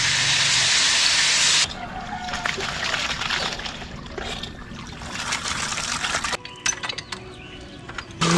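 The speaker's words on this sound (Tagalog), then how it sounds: "Magandang tubig eh, no? Ganito lang bombahan" A Jetmatic hand pump in the Philippines gushes water in a loud, dense rush at first. The flow then turns to lighter splashing and trickling, with occasional clinks.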